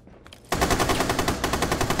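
Rapid automatic gunfire from a Rainbow Six match bursts in after a quiet half second, then rattles on loud and dense without letup.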